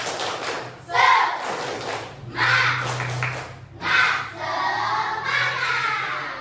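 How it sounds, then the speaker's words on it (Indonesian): A class of fourth and fifth graders performs the 'tepuk semangat' spirit clap, with rhythmic group claps and shouted chanting in several loud bursts, separated by brief pauses. "selanjutnya tepuk semangat"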